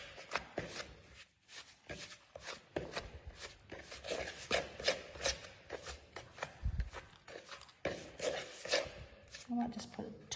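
A spoon stirs biscuit icing of sugar and milk in a bowl, making soft, quiet scraping and tapping strokes in an irregular rhythm, close up.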